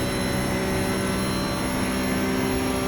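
Porsche GT3 Cup race car engine held at full throttle along a straight in iRacing, a loud, steady high-pitched engine roar with constant tonal whine and no talk.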